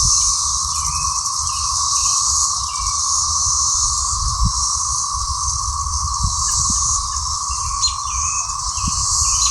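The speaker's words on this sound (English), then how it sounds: "the cicadas, they're out here" Cicadas outdoors in the American South make a loud, steady, continuous buzz that fills the whole stretch without pause, with faint chirps over it and no talking.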